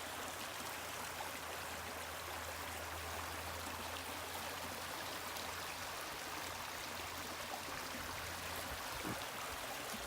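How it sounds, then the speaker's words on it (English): A creek flows steadily nearby, a constant, even rush of water with no breaks and no voices. "The creek is just divine."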